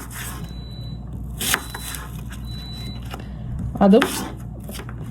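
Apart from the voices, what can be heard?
cutting an apple with a knife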